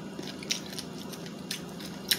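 Crunchy fried chicken crust bitten and chewed close up, several sharp crackling crunches spaced about half a second apart over soft chewing, with no talk.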